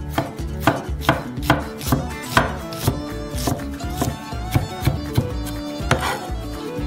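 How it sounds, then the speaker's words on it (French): Red onion being finely chopped in a mortar, a brisk series of sharp, close knife strikes repeating at a steady rhythm for several seconds, with no voices over it. "Hachez finement l'oignon rouge dans un mortier"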